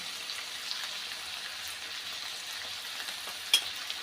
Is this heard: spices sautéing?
yes